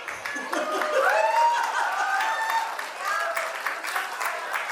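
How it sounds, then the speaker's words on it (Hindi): Guests at a wedding reception clap steadily while voices chatter and call out over the applause. The room sounds lively and busy, with the noise holding at a constant level. "ताली मार दो।"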